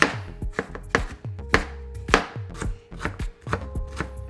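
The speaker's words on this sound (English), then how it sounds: "So we're just gonna do one whole onion. All right, chop that baby up." A whole onion being chopped with a knife on a cutting board at a cookout, with about eight sharp, close knife strikes at an irregular pace and no talking.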